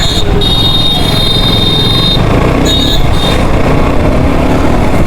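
A KTM motorcycle engine held at a loud, steady high rev, continuous and close, with a whining tone riding over the roar and no talking.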